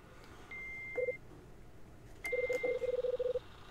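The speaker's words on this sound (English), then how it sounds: "Beep. Looks like there's another message recorded." Two electronic answering machine beeps in the video game Last Window: The Secret of Cape West: a short tone, a pause, then a longer tone followed by a rapid string of chirping blips, clean and synthetic.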